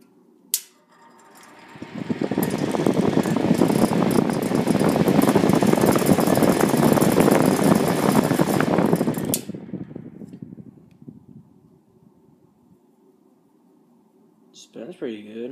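A rare 1950s 8-inch Lasko industrial floor fan, single speed with a wobbly noise issue, whirs up with a steady loud broadband rush for several seconds, then winds down and fades, with a click at the start and a clunk at the end.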